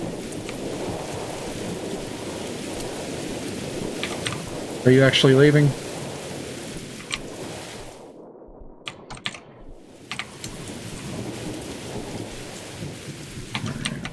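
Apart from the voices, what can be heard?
thunderstorm with rain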